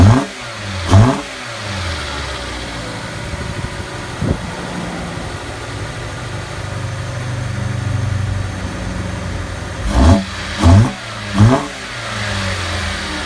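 A Dodge Dart GT engine fitted with a new intake fires up and is revved in several sharp bursts, idling between the blips, close by with no talk.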